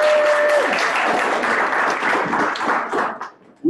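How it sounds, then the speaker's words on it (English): An indoor audience at a chamber of commerce meeting gives a hearty round of applause, dense clapping from many hands that holds steady, then thins and fades out near the end. "Let's give a big round of applause for these ladies that are taking care"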